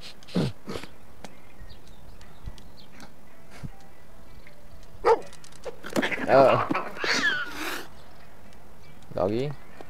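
A cartoon dog in the puzzle adventure game Lost in Play gives a few short barks and whimpers between sparse clicks and game effects, moderately loud and close, with a louder cluster of sounds in the middle.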